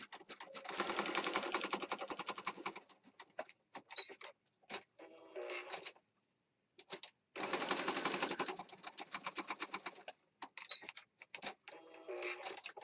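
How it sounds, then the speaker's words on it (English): A sewing machine runs zigzag stitching in two long bursts of steady rapid stitching, with shorter stop-start runs and pauses in between, close and fairly loud. "I'm just going to zigzag stitch kind of all over this."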